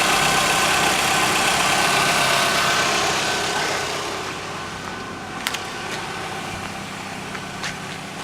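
Chevrolet Kalos/Aveo engine idling while warming up after a timing belt replacement and coolant refill: a steady, close, even hum that eases slightly partway through, with a few faint clicks and no talking.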